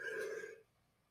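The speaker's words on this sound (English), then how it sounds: "Please excuse my yawning." A single human yawn, a drawn-out voiced exhale that sounds close and fairly loud, then cuts off into near silence.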